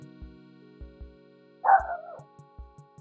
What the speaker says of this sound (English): I'm going to have to shut the dogs up at half time